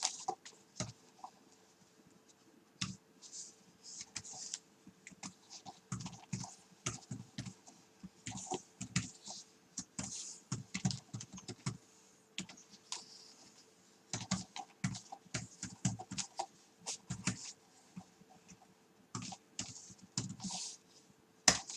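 Password typed on a Microsoft Surface Book keyboard, quick bursts of close, crisp key clicks in uneven clusters with short pauses, alone against a quiet room.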